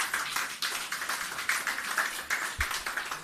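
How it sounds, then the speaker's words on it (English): Audience clapping at a media briefing on Hurricane Melissa recovery in Jamaica, a moderately quiet, pulsing patter of hands with a rhythmic feel, heard on its own for a few seconds. "Keep the applause going."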